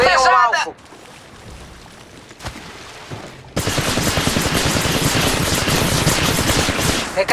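Rapid automatic gunfire from the mobile battle royale game Apex Legends Mobile, loud and continuous bursts filling the second half after quieter game ambience and a brief voice-like sound at the start.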